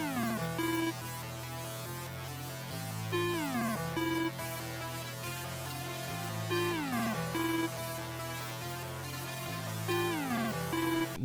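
A synth lead melody made in FL Studio for a hard-hitting beat, run through gross beat and EQ effects, plays steady repeating phrases with gliding notes over a sustained low bass line, loud and continuous with no voices.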